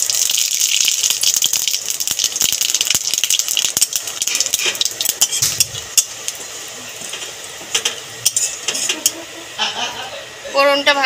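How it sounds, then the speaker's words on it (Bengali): White cumin seeds dropped into hot oil crackle and sputter loudly up close, a dense hiss with sharp pops and some pan rattling while someone talks. "গরম তেলের মধ্যে ফোড়ন দিয়ে দেব সাদা জিরে,"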